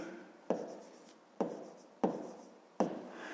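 Four sharp strokes of handwriting during a math lesson, each a scratchy tap trailing off, close and quiet with no talking.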